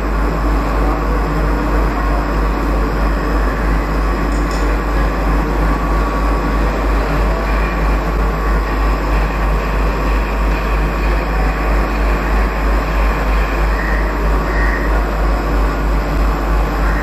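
Steady, loud rumble of electric locomotives at the Vadodara electric loco shed, a dense continuous drone with a faint high whine running throughout and no talk.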